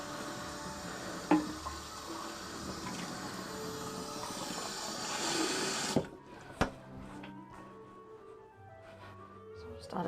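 Cold water runs from a kitchen tap during home cooking, a steady rushing hiss for about six seconds before it shuts off, followed by a few light clicks and handling sounds.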